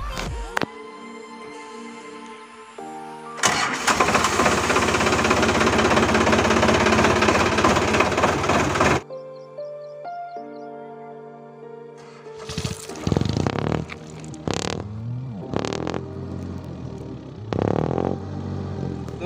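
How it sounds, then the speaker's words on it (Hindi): A tractor engine fitted with a very long silencer pipe cranks and fires up, running loud and close for several seconds before cutting out, followed by clattering, knocking bursts of noise. "दोस्तों देखिए ट्रैक्टर को आप एक बार और चालू करने वाले हैं"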